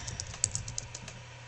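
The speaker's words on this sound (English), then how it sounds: "I will type this out" Quick run of keystrokes on a computer keyboard, a dozen or so close, crisp clicks in an uneven rhythm over a faint low hum, with no talking.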